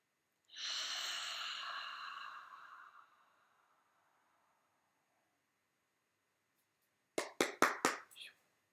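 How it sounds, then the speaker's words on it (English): Several people take a single deep breath together, a long audible inhale lasting a few seconds in a quiet room, followed after a pause by a short burst of brief handling or tapping sounds. "So let's all take a nice deep breath together."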